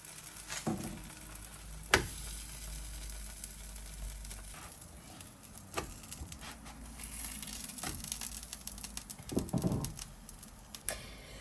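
Pupusas cook on a hot griddle with a steady, close sizzle, broken by occasional sharp taps and clicks. No one speaks.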